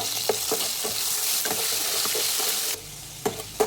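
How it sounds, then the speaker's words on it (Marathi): A ginger, garlic and coriander paste roasts in a hot pan for matar paneer, giving a steady close sizzle broken by scraping stirs and light clinks of the spoon. "आपण ती 2 चमचे घालायची याच्यात आणि छान भाजून घ्यायचं"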